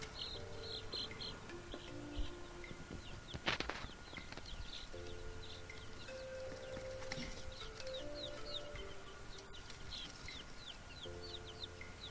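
Several laying hens cluck and murmur softly around, with occasional brief clatter and faint chirping in the background; no talking.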